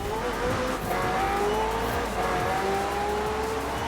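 A racing car engine in a driving video game revs high with rising gear-change whines, a steady near roar with faint tire squeal under it.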